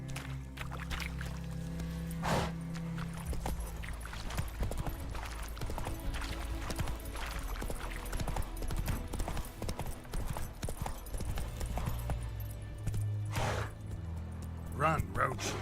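A horse gallops in The Witcher 3 video game. Rapid, continuous hoofbeats sound close under game effects, with voices speaking over them.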